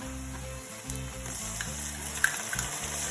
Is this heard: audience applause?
no